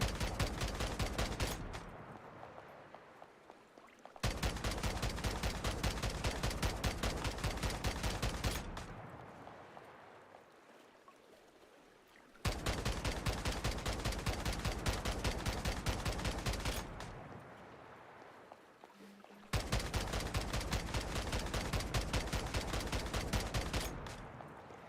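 Bursts of rapid automatic gunfire come from a video game, about four sustained volleys separated by short pauses. The shooting is loud and dense.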